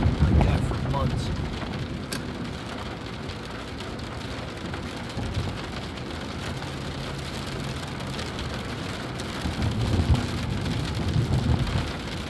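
Steady rain drums on a car while driving, a dense continuous patter over low road and engine rumble, with a few louder swells and no talk.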